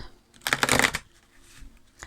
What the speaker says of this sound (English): a very quick card shuffle on camera